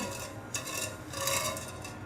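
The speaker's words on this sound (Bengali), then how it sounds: "এখন আমি এটা নেড়ে নিব।" Sugar and water stirred in a pan for milk pudding, with a spoon rasping and scraping steadily against the pan close by, swelling slightly midway, with no talking.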